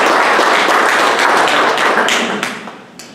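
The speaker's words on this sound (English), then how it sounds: "And can we please give them a round of applause?" Audience applause for a company team in the Texas Tech Accelerator Program, a dense, loud burst of clapping that holds steady and then thins out toward the end.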